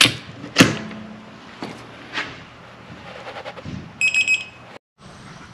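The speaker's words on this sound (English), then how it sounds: "You'll hear like a little beep beep" Near the end, a quick series of four high electronic beeps from a torque wrench reaching torque, after clanks and rustling of tool handling while fitting winter wheels on a 2017 Subaru STI.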